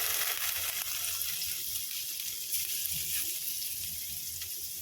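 Tofu pieces frying in a pan, a steady bright crackling sizzle that stays close and even throughout without speech.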